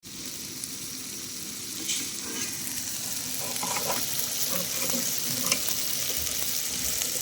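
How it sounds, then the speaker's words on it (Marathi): Ground masala paste and chili powder fry in hot oil over a wood-fired stove for a spicy mutton dish, a close, steady sizzle with scraping stirs and brief clinks. "गरम तेलामध्ये वाटलेले वाटण, मिरची पावडर, तेल सुटेपर्यंत छान परतून घेतले."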